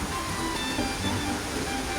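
Water trickles and splashes steadily through a homemade water filter, a continuous broadband rush of flowing, dripping water at close range with no clear individual drops.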